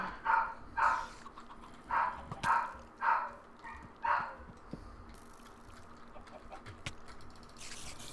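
A dog in the Minecraft video game barks in a run of six sharp, fairly loud yaps over about four seconds, followed by quieter game ambience and scattered small clicks.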